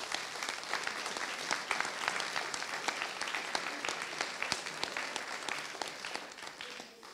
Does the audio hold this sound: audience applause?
yes